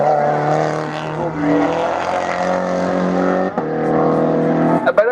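A race car engine at a regional hill climb in Hébécrevon, France, howls steadily at high revs with shifting pitch, loud and continuous, with a commentator's voice over it.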